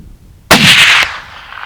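A single loud rifle shot rings out during a hunt for a whitetail buck on the Nebraska plains, a sharp crack followed by a half-second blast and a fading outdoor echo, close and alone.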